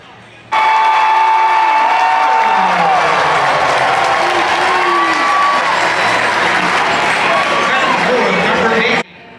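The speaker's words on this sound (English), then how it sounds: "The crowd gave him a great ovation." A large baseball crowd at Citizens Bank Park gives Bryce Harper a loud standing ovation on his return from Tommy John surgery, with sustained applause and cheering and a few whistles rising over it.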